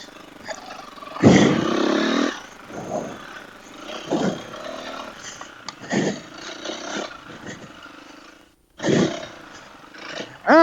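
Four-stroke 350 dirt bike (KTM/Husqvarna style) on a trail, engine revving in repeated loud bursts with throttle blips and pauses between, near the rider.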